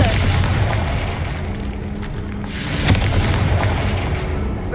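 A Confringo fire spell explodes in the Hogwarts Legacy video game as a loud, sustained blast with a sharp burst partway through.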